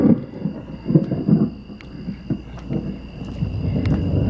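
A homemade storm lightning machine run by an Arduino plays a thunder effect: a steady low rumble broken by sharp, crackling snaps at irregular moments, with a faint high electronic tone behind it.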